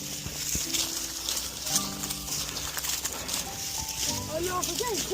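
A horse gallops toward the listeners, its hooves thudding and clip-clopping at moderate distance while several people talk over it throughout.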